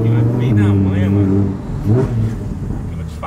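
A Lamborghini Huracan set to Corsa mode revs from inside the cabin with a deep, loud engine tone that rises and falls in two short surges, under someone talking.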